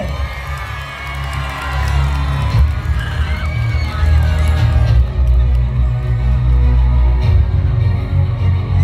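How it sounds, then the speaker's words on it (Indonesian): A crowd at the closing ceremony of the MTQ 2023 in Muara Jawa Pesisir, Kutai Kartanegara, cheers and shouts loudly over a heavy, booming low background. Excited whoops and voices rise and fall throughout. "Sekali lagi tepuk tangan yang meriah untuk Muara Jawa Pesisir."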